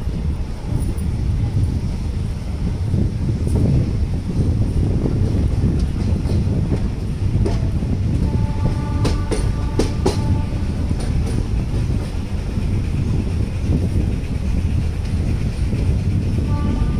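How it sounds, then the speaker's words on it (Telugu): A sleeper class train running late on the line toward Vizag, recorded from inside the carriage as a loud, continuous rumble with steady wheel clatter and wind noise and a few faint squeals. "ట్రైన్ డిలేలోనే నడుస్తుంది."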